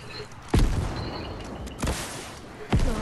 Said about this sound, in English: This is your RPG.